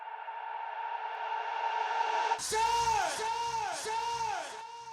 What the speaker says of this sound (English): So one thing I add is this riser with another sample